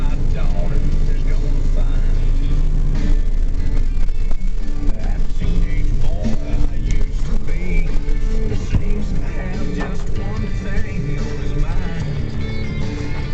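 A 1996 Ford F150 pickup with a 5-speed, idling after a cold start, gives a loud, steady, close-up low rumble that runs unbroken the whole way through, with indistinct voices mixed in at times.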